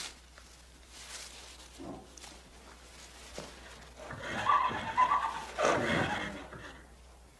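Young horse foals neighing, a couple of whinnies rising out of quiet background rustle and faint footsteps, moderately close, with no talk.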